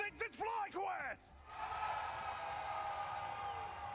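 A crowd cheers and roars at the Marvel Rivals Ignite Grand Finals, a broad sustained wash of noise that follows a brief spoken call from a host.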